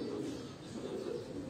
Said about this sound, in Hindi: ये सारे बैलेंस बड़े जिस्मों वाले कबूतर